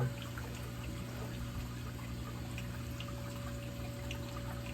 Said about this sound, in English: which is where the water drains out of this back into the tank